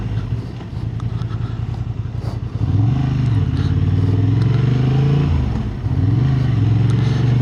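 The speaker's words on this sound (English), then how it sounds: "I've got a test ride today on this Hornet" Honda Hornet 750 motorcycle engine running steadily and close by, with a rising surge of revs partway through, a brief dip, then another climb, heard alone without talk.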